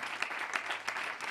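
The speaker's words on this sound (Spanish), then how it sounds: "Fuerte aplauso, por favor." Brief, moderately faint applause from a small group at a compilation CD launch, a quick even patter of clapping with no voices over it.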